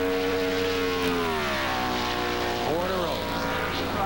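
Jeff Gordon's number 24 race car howls at full throttle around the oval during Coca-Cola 600 qualifying, a loud sustained engine whine that sweeps in pitch as it passes, with a commentator speaking over it.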